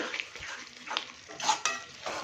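Ritha fish roe being sautéed and stirred in a pan with a little water, giving soft sizzling and scraping with spoon knocks that grow louder toward the end, close by and moderately quiet.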